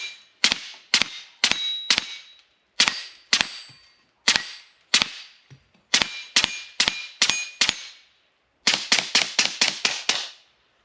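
An LCS Air Arms SK-19 air shotgun fired semi-automatic at steel targets: loud, sharp reports each followed by a ringing metallic clang, in irregular bursts with short pauses and a rapid string of five shots at the end.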